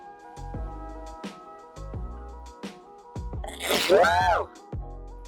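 A single sharp sneeze bursts out near the end, preceded by a quick intake of breath, amid soft tapping and shuffling sounds.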